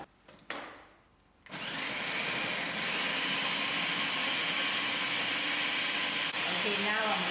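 An electric grinder blends a spicy, sour coriander (dhania) chutney: a few brief clicks, then the motor kicks in and whirs loudly and steadily up close, churning without pause to the end.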